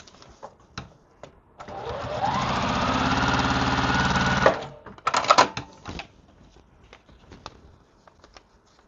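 A sewing machine whirs steadily for a few seconds while stitching quilt pieces together, followed by fabric handling, clicks and quiet rustling.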